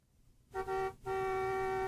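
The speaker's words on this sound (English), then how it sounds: "she heard the car honking outside" A car horn honks outside in the rain, two loud sustained blasts in quick succession, a short one followed by a longer held tone.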